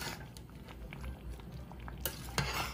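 Homemade fig jam boiling down in a pot, a steady low bubbling and popping throughout with a couple of sharper clicks near the end, no voices.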